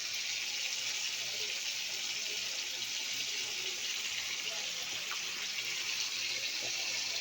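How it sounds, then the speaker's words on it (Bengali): Kewra water being poured into a covered pot of cooking food, a continuous hissing trickle blending with faint sizzle, steady and close for several seconds without clear breaks. "কেওড়া জল দিলাম।"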